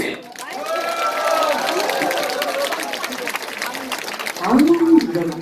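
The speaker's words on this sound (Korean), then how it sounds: "그 전에 박수 치신 분들 너무 감사해요." Korean pumba folk troupe's joint charity performance, an audience clapping and chattering through the whole stretch at moderate loudness, with voices and shouts mixed into the crowd noise.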